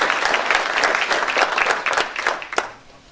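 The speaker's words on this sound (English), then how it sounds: "If we could just give them a round of applause." An audience at a formal welcome ceremony applauds, a broad wash of many hands clapping that holds steadily, then thins and fades out over the last second.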